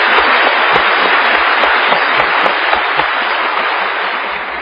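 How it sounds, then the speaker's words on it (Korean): Church congregation applauding during a Korean Bible sermon on Romans, a steady dense wash of clapping held at full strength for several seconds and tapering slightly at the end, with no talk over it. "우리 하나님께 박수로 감사합니다"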